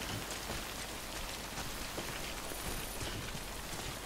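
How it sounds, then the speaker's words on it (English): Steady, dense hiss of timefall rain in the video game Death Stranding, a continuous wash of drops pattering on surfaces, fairly loud and even throughout with no voices. "Oh, it's raining."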